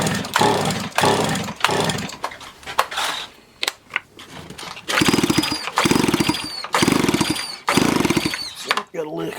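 A Stihl 028AV chainsaw sputters and briefly fires after an ignition coil replacement, giving loud, harsh bursts of engine noise separated by short gaps, with a person speaking between the bursts.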